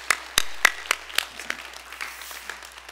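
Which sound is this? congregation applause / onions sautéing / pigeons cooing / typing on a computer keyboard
congregation applause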